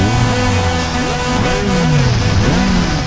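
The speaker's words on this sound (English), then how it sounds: "The sound of roaring engines, the smell of burning rubber. This must be a racing title." Car engines roar and rev in the racing video game R: Racing Evolution, their pitch sweeping up and down in overlapping waves as cars accelerate, loud and continuous with no talking.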